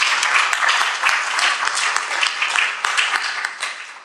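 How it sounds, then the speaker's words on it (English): A conference audience applauds a group of five individuals, dense sustained clapping from a sizeable crowd, loud and continuous throughout with slight swells. "if we could have one more round of applause for all these folks"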